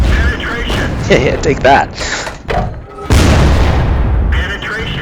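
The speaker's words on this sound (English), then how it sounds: "Hellcat, nice soft target for my high explosive rounds." A tank cannon in a video game fires high explosive rounds at a Hellcat, giving loud heavy booms and mechanical clanks alongside game effects, while someone speaks briefly over the action.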